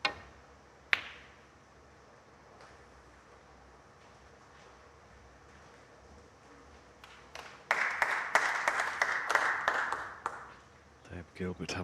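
Crowd at the 2023 British Open snooker breaks into a burst of applause and cheering for a local player potting a long red, the clapping swelling for a few seconds after a sharp ball click, with commentary around it.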